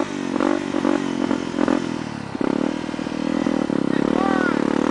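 A motorcycle grinds up a dirt trail, its engine droning and revving unevenly with clattering and scraping, fairly loud and close, with voices talking over it.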